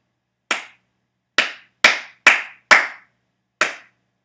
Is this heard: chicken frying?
no